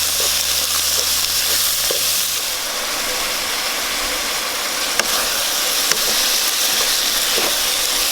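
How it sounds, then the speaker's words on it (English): Pork filling being stir-fried in a pan for stuffed tapioca pearl dumplings, a continuous loud sizzle and hiss with occasional light scrapes and taps of the spatula. "I'm going to go ahead and add in the pork that we stir fried earlier."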